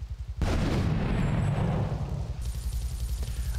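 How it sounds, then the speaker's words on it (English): A bomb bursts in a modded Grand Theft Auto 3 helicopter fight, a sudden heavy boom that rolls into a long rumbling decay with a rapid engine-like thrum underneath. "A bomb was dropped on me?"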